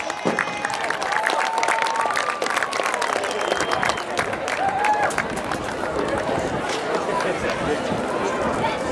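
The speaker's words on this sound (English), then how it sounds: "Let's give them a round of applause." Crowd applause in a school sports gym thanking the statisticians, a dense roar of clapping mixed with cheering and voices that stays loud and steady throughout.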